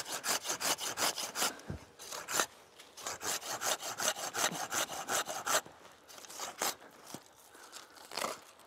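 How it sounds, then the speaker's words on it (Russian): A hand saw cuts through the end of an old tree branch during rejuvenation pruning, with steady, close, rhythmic back-and-forth strokes rasping continuously and a few brief pauses between them. "А далее могу электрической пилой или ручной вырезать этот конец."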